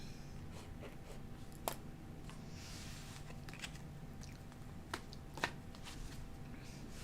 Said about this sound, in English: Okay, let me shuffle these back in